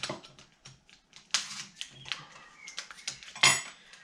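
Knife cutting on a board while preparing a pear and Roquefort salad, a string of sharp, close clicks and taps in an irregular rhythm, with a louder clatter near the end.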